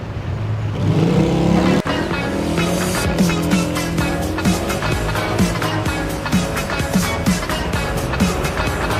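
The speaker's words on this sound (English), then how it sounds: "within the scope of a few minutes, you had 3 taxis drive by and 4 buses" Traffic on a street in Ecuador, with taxis and buses passing close by, a steady loud rumble of engines and road noise that swells and fades.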